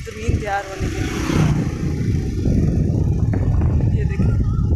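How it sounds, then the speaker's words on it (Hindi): A tractor engine rumbles steadily while preparing farmland in a village, a low continuous drone heard from nearby under a voice talking over it. "ये ट्रैक्टर चल रहा है ज़मीन तैयार होने के लिए"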